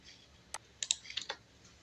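Several computer keyboard key presses while running a C# console application for Dynamics 365, a few quick separate clicks fairly close, with no talking.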